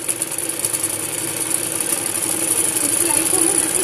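A sewing machine stitches salwar fabric in a steady, even mechanical whir with a light rattle that runs without a break, close by.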